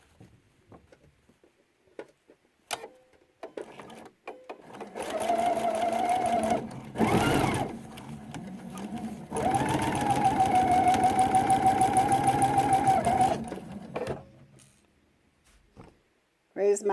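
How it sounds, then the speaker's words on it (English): Sewing machine stitching quilt binding along a drawn line, a steady close-up mechanical whir that runs in two long bursts with a short pause between, plus a few quiet clicks before and after. "And sew right down that line that I drew."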